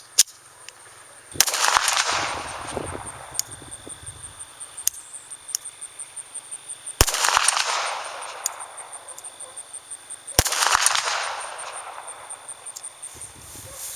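Three sharp gunshots from a MAB .32 ACP model GZ pistol with an aluminum frame and fixed barrel, fired outdoors at spaced intervals, each a loud crack followed by a ringing decay, with faint background chirping between shots.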